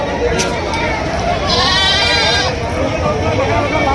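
Goats bleating amid a busy crowd at the Balahedi goat market in Rajasthan, with a sustained bleat standing out over constant chatter and market din.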